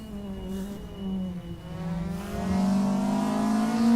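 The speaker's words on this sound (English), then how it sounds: "you can hear the throttles on the Golf" Heard from inside a VW Golf GTI race car, the engine rises and falls as the throttle is worked. It climbs to a loud, sustained rev near the end, with no speech.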